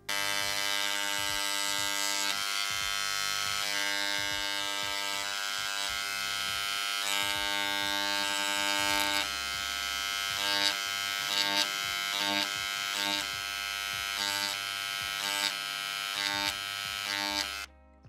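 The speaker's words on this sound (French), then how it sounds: "Je viendrai ensuite avec le Dremel Engraver" A Dremel Engraver buzzes steadily while engraving a gold filled plate, a close, loud electric vibrating drone with faint tapping pulses as the tip moves across the metal, stopping abruptly at the end.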